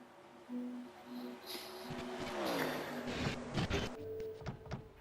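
Several race cars roar past in a pack at Homestead in a NASCAR-style racing video game. Overlapping engine tones rise and fall as the cars sweep by close and fairly loud, with a doppler pitch drop midway.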